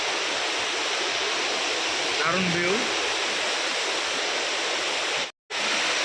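Steady, rushing roar of a jungle mountain waterfall at Kanching, Templer's Park, Selangor, Malaysia, fills the whole clip. A voice speaks briefly partway through, and the sound cuts out for a moment near the end.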